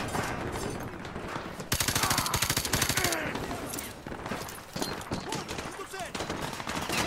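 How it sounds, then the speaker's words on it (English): Rapid automatic gunfire in Call of Duty Modern Warfare 2 Remastered, loud and close, with dense bursts of shots and a heavy sustained volley in the middle, among other battle noise. "Shit, who's shooting at me?"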